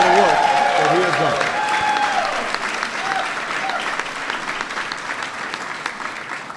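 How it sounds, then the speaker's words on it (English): Sustained applause from an audience at a reception at the Museum of African American History, a broad steady roar of many hands that starts loud and gradually tapers off, with faint crowd murmur beneath. "please give him a big round of applause for all the work that he has"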